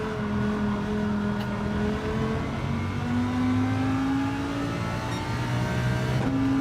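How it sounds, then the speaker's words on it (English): A Lamborghini engine in Gran Turismo 7 revs hard and steadily, climbing through gears with loud, sustained racing-engine drone and pitch rising then dropping at each shift. "Do I need to rev out this Lambo?"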